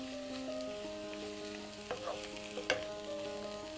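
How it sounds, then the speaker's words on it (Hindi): Cabbage and mixed vegetables stir-fry in a pan for chow mein, with a steady close sizzle and a couple of sharp clanks of a utensil against the pan, and no one speaking. "हमें इन्हें 2-3 मिनट ही फ्राई करना है कि सब्जियां थोड़ी सॉफ्ट हो जाएं।"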